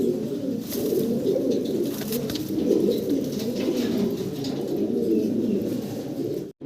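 Lahori pigeons cooing close by, a continuous overlapping run of low, throaty rolling coos with faint chirps in the background and no talk.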